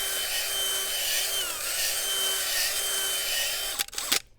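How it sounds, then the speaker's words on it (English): A powered auger churning soil in a planting hole with an up-and-down mixing motion, giving a steady whirring motor drone with rubbing grind and pitch shifts, then a few abrupt knocks before the motor stops near the end. "I'm just kind of using an up and down motion with this auger."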